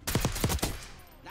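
Short burst of video game gunfire, four or five quick punchy shots in rapid succession followed by a fading tail, fairly loud and close with no voices over it.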